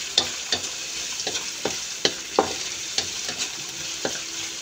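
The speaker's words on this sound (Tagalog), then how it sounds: "ilagay po natin yung bawang sibuyas. Natin yung sibuyas na saka bawang." Garlic and onion sizzle in a hot pan for Laing, a Filipino taro-leaf dish, with repeated sharp scraping clicks from a utensil stirring at a steady rhythm over a continuous frying hiss, close and clear with no talk.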